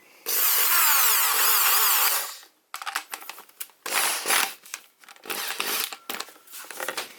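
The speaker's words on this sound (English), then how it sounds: "and then put that into the drill" A power drill with a hole saw whines loudly for about two seconds, then cuts in several shorter grinding bursts separated by pauses, making dash vent gauge pods for a Ford Fiesta Mk6.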